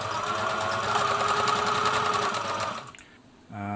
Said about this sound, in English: by rights you should be able to chain right off the end of the fabric